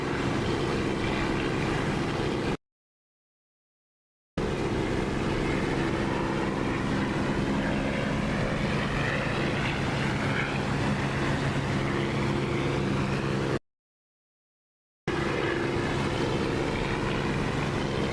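Steady, droning propeller aircraft engine from the DCS flight simulator game, loud and continuous with a slowly shifting pitch, broken by two short silent gaps, with no talking.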